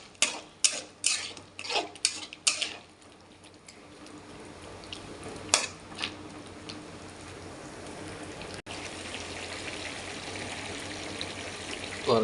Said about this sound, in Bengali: তরকারি ফুটছে